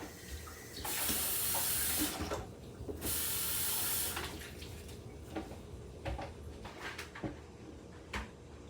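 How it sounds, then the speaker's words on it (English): Water pouring off raw chicken into a kitchen sink while gumbo is prepared, two loud gushing bursts of a few seconds each, then quieter drips, clinks and handling sounds. "I'm going to drain all the water off the chicken."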